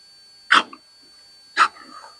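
A bulldog puppy gives two short, sharp barks about a second apart, close and clear against a quiet background.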